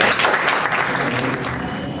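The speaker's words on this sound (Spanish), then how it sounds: "Un aplauso para él." Applause from an audience at a university book presentation, a dense steady wash of many hands clapping throughout, loud and continuous with faint voices mixed in.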